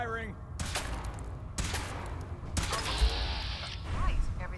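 Weapon fire in Fallout 4 comes as three sharp, loud broadband blasts about a second apart, each trailing into a rumbling decay, with a low mechanical drone underneath.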